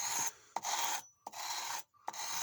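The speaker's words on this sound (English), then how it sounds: "Now I'm working the bevel there." A leather-working tool's bevel edge being sharpened, three long rasping strokes of metal rubbing against an abrasive surface, each separated by a short silent pause, close and steady with no talk.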